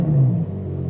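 A Ferrari 812 GTS V12 rumbles loudly and close by as it pulls away, a deep steady roar that eases after half a second.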